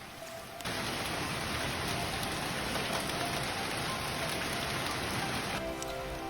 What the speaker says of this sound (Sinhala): ඈතකට වෙලා වැස්ස වහින දිහා බලාගෙන ඉන්න එක.